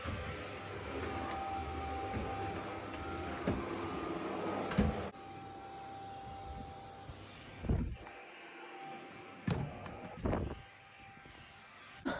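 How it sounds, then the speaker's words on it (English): A household vacuum cleaner drones steadily at low level upstairs in a home, with a few bumps and brief surges as it is pushed around, and no talking over it. "Right guys, I'm gonna hoover upstairs now."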